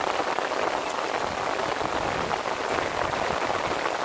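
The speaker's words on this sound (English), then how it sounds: "there's the rain's picking up just a little bit again" Heavy rain from Hurricane Lane falls as a dense, steady hiss of drops hitting surfaces, with no wind gusts and no voices over it.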